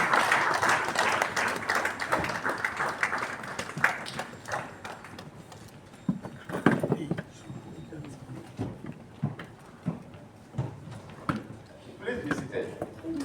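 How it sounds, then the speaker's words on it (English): Audience at a diversity, equity and inclusion colloquium applauding, loud at first and then thinning into scattered, irregular claps, with talking underneath. "A round of applause, please. A round of applause."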